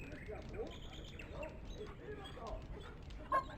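A video game dog whimpers in short, soft cries amid a busy, low-level game soundscape with faint bird chirps.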